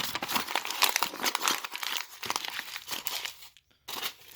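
Tinfoil crumples and crinkles as it is squeezed tightly around a paper weight, close up in irregular crackling bursts, with a brief pause near the end.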